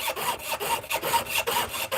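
A saw blade cuts through wood in quick, rhythmic rasping strokes, close and fairly loud, with no talking.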